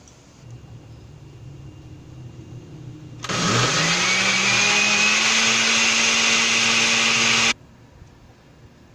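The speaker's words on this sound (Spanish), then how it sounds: "Y le pongo los 2 chiles y lo voy a licuar." A blender purees boiled tomatoes with habanero chiles for a salsa, starting with a sudden loud whir that holds steady for about four seconds, then cuts off to quiet room sound.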